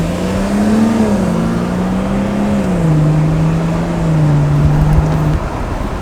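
Exhaust of a BMW F30 with a B58 engine and a deleted muffler, heard in comfort mode as a steady droning tone that rises and falls gently, loud and close, then drops away near the end.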